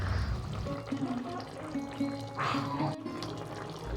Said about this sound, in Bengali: এবার আমি সর্ষে বাটাটা দিয়ে দেব